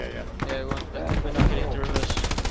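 Gunfire from the video game Hell Let Loose: several sharp shots and short bursts, close and loud, with a rapid automatic burst building near the end, while players talk over it.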